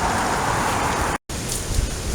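Steady rain falls outdoors on a walk, a dense, even hiss that fills the whole stretch apart from one brief drop to silence near the middle.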